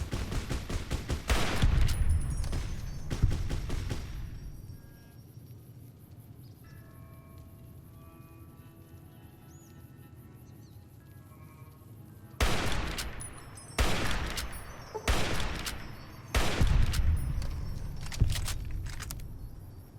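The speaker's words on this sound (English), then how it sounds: "I can definitely hear some gunfire. That's a marksman rifle." Several loud, spaced single gunshots from a marksman rifle in Fallout: New Vegas, with echoing tails, a quieter stretch of distant ambience in between, then more sharp shots.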